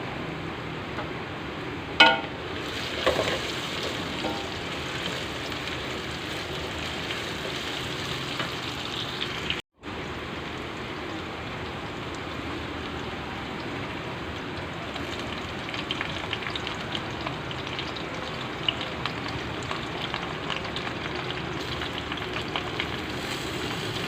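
Cumin seeds frying in hot oil in a home kitchen, a steady soft sizzle with a brief crackle near the start, continuous and close with no talking.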